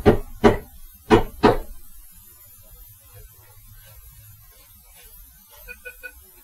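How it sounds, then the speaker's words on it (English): Four sharp knocks on a homemade knock detector form a secret rhythm of two pairs. A quiet hum follows, then a few short electronic beeps of playback. "let's say we put in the correct knock"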